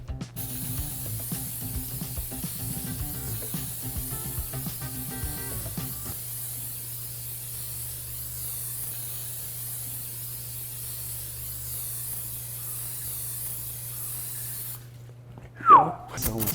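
A long, steady spray hiss from an aerosol can of cooking spray runs for many seconds, with faint murmuring early on and a brief squeak near the end.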